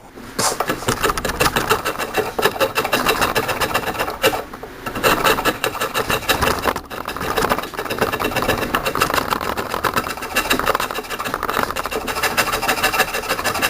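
A chisel scrapes and rasps against wood while building a farmhouse table, a dense, continuous rough scraping close up with brief dips and no talking.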